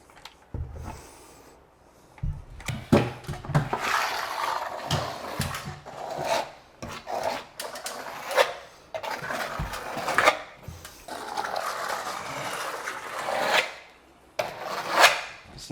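A tool smoothing sealant over HYDROBLOK waterproof wall board, with soft intermittent rubbing and scraping strokes close by, in uneven bursts with short pauses between them.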